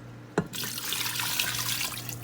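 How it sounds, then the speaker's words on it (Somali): Water poured from a bowl into a pot of camel meat for a Somali pasta and meat dish, a short splash followed by a continuous gurgling pour over a low steady hum. "waxaan ku darsanayaa hadda baaquligaas oo biyo ah"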